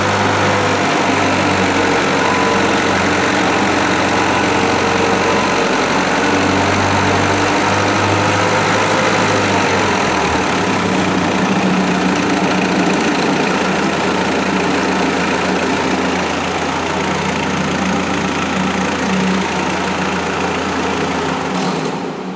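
A test-bench engine running steadily at low speed during a cooling curve test, a constant loud mechanical drone with a low hum that shifts slightly partway through, continuous and close with no talk.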